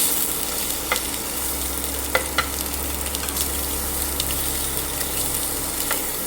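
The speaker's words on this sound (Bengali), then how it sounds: "লঙ্কা গুঁড়ো আর নুন দিয়ে একটু ভেজে নিলে হেভি টেস্টি লাগে" Cherry tomatoes frying in oil with chilli powder and salt give a steady, close sizzle, with scattered crackles and pops breaking through the continuous hiss and no speech over it.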